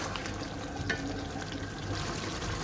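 Arvi gosht, a taro and meat curry, fries steadily in a pot with a constant low sizzle and soft bubbling, moderately close and unbroken, with no talk over it.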